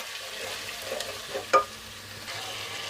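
Whole coriander and cumin paste stirred into spices frying in a pan for savory seviyan, giving a soft steady sizzle with light scraping and one brief louder clatter midway, no voices.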